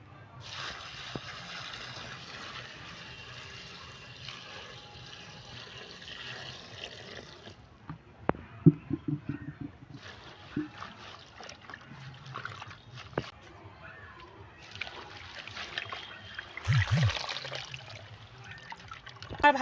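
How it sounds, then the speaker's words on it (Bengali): Tap water runs steadily over leafy greens being washed in a kitchen, with a continuous trickling wash broken by brief splashes and handling knocks, fairly quiet and close. "এখন আমি শাকগুলো ধুয়ে নেব।"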